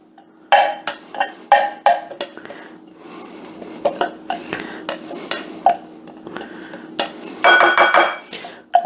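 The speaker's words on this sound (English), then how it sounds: "If I had a smaller spatula here, it would work better, but I'm gonna get that nice and mixed together." A spatula mixes Cajun macaroni salad in a bowl, giving repeated close clanks, scrapes and clinks in an uneven stirring rhythm, with a louder burst of rattling near the end.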